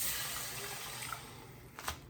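Beef stock seasoned with pepper is poured into a cooking pot, a soft continuous liquid splash and trickle, fairly quiet, ending with a couple of small splashy bursts.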